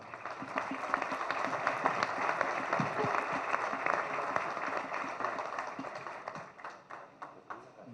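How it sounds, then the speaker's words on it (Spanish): Audience applause welcoming the moderator at a public event in Mazatlán, a steady wash of clapping lasting the full stretch, moderately loud, with faint crowd murmur mixed in. "Un aplauso, por favor."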